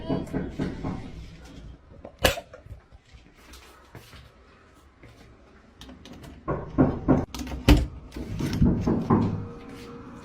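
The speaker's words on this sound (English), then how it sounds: "she suddenly heard a knock at the door" Knocking at a door late at night, several sharp raps in loose bursts with quieter rustling and handling noise between, fairly close and loud.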